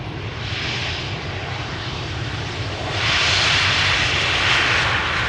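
An arriving aircraft on the runway at Amsterdam Schiphol Airport, a continuous engine roar at moderate distance that swells louder partway through as it draws nearer.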